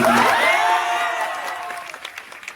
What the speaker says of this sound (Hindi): एक बार आप लोग अपने लिए ताली बजाएं।